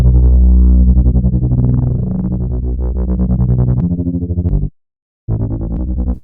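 Distorted synth wobble bass, loud and pulsing with rhythmic filter wobbles, a short gap of silence, then the bass returning.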